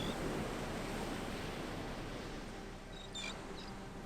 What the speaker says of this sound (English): further out at sea, even larger waves roll in